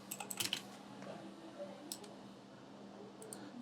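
A computer keyboard clicks faintly as a search query is typed, with a quick cluster of keystrokes at the start and a few scattered taps afterward over low room hum.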